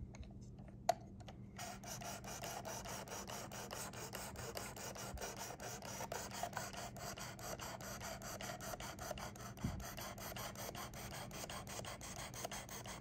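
A Damascus Civivi knife is sharpened on a Worksharp Precision Adjust sharpener with an 800 grit stone, giving a steady, close scraping rasp of rapid repeated strokes that continues throughout.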